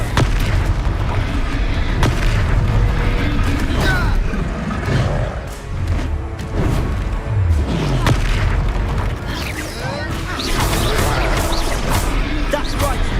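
Repeated Confringo fire spell blasts during a Hogwarts video game fight: heavy booms and crashing impacts recur throughout a dense, loud battle soundscape, with game voices faintly mixed in.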